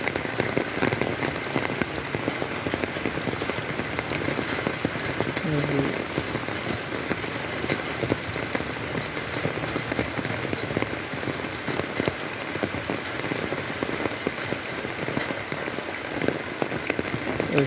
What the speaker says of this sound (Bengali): মানুষ চাইছিল যে বৃষ্টি হোক হোক, হচ্ছিল না, কিন্তু আজকেই বৃষ্টি